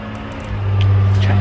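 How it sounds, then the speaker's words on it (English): A loud truck rumbling past on a street, a deep engine drone that swells and grows louder toward the end, close by and dominating the scene. "this truck is loud"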